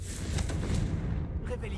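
A Confringo fire spell explodes in Hogwarts Legacy, a dense, rumbling blast that fills the low end for nearly two seconds with crackling bursts above it, loud and close, with no talking.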